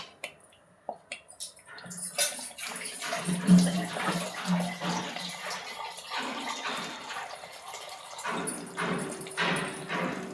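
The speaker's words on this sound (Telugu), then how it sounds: "దీంట్లోకి ఇంకా కొంచెం వాటర్ వేస్తాను" Water splashes and trickles into a pot for several seconds, with intermittent clinks and sloshing of liquid against metal.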